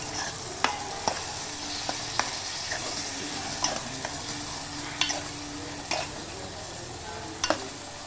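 A village-style brinjal and dried fish curry fries in a pan with a low, steady sizzle, broken by sharp spoon scrapes and clinks against the pan at irregular intervals; no talking.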